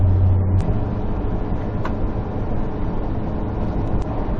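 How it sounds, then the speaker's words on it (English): A semi truck passes on Highway 14 in Saskatchewan, a loud, steady rumbling rush of road and engine noise heard from inside a moving vehicle. "Semi's passing."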